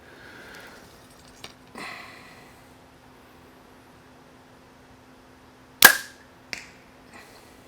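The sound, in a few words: arrow shot from a Hoyt compound bow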